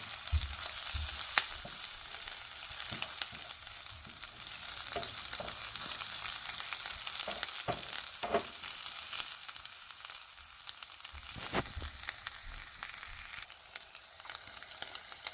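Ghana-style eto mixture of mashed plantain fries in a pot while being stirred. A quiet, steady sizzle runs throughout, with occasional faint scraping clicks from the stirring.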